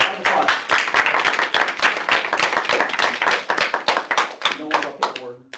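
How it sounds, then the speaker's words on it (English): A small room of people clapping at a student senate meeting, brisk and close, with claps fading out near the end as a voice begins to speak. "Yeah, round of applause."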